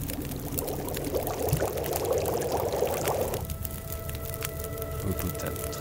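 Water heats over a campfire in The Long Dark survival game, a steady bubbling, hissing rush that fills the first half and then drops to a quieter simmer with faint crackle.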